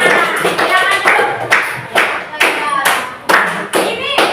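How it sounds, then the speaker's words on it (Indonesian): A class of students claps together in a Christian religious education lesson, several loud uneven bursts of hand claps close by, with voices mixed in. "Iya, tepuk tangan semua."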